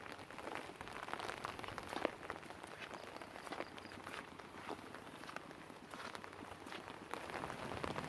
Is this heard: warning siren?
no